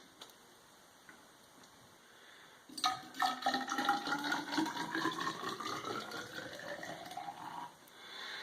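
Flavored vitamin water poured into a test tube, a bubbling, gurgling stream that starts abruptly after a quiet moment, rises steadily in pitch as the tube fills, then stops.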